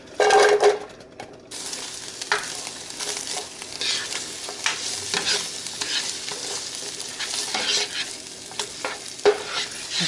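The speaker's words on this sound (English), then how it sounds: "now I'm gonna add in my onion" Chopped onion frying in hot olive oil in a pan gives a close, continuous sizzle with repeated scraping and stirring strokes, louder bursts as it is turned over, and no talking.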